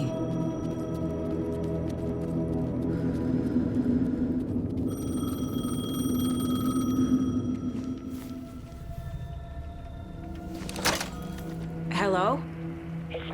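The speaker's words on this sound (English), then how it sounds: "The payphone was ringing." A payphone rings in the Alan Wake 2 video game. Repeated high electronic ring tones sound over a dense, low rumbling ambience, followed by a few sharp knocks and clicks near the end.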